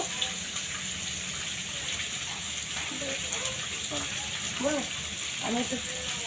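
Onions and vegetable stalks sizzle in hot oil, a steady loud frying hiss with occasional stirring scrapes and clinks.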